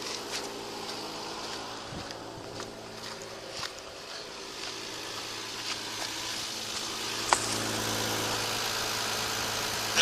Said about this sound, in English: now we're going to start that up